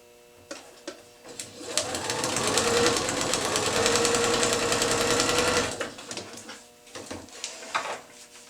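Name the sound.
sewing machine stitching quilt pieces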